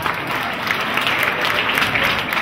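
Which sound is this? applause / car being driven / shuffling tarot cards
applause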